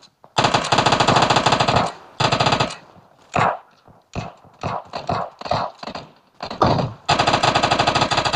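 Rapid bursts of Uzi submachine gun fire in a multiplayer shooter video game, loud and close, several long sustained volleys separated by shorter staccato bursts.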